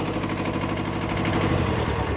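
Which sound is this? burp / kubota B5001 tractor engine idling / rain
kubota B5001 tractor engine idling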